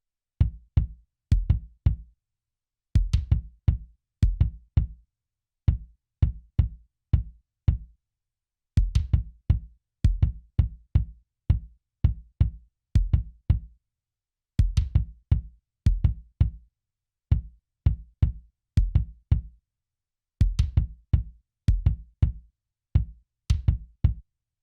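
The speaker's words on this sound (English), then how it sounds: "Now I'm gonna play the kick drum sounds so you can hear how they sound in the drum rhythm" Punchy kick drum hits from a breakdown-style drum rhythm for a song, played alone in repeating clustered patterns with short gaps between phrases.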